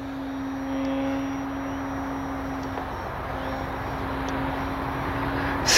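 A radio-controlled model airplane fitted with an AR620 receiver and no gyro flies in manual mode, a steady droning motor tone holding at a constant distance with faint background hiss throughout.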